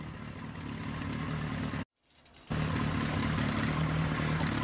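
The four-cylinder engine of a 1972 Kawasaki Z1 motorcycle runs with a steady, throbbing idle, broken by a brief near-silent cut before resuming at similar loudness.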